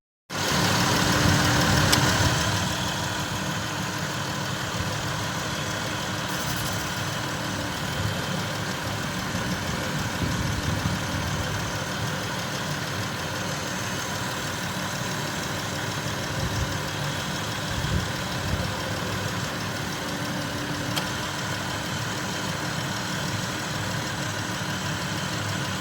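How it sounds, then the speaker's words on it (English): A Dodge Journey engine idles steadily after a thermostat replacement, a continuous mid-pitched hum with a slightly louder start-up surge in the first seconds, then an even drone throughout with no talking. "then start the car up"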